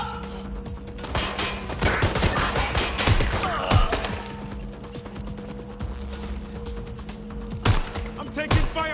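Rapid bursts of gunfire crackle through a firefight in Watch Dogs: Legion, with clustered volleys of shots and thuds in the first half, a lull, then more sharp shots near the end.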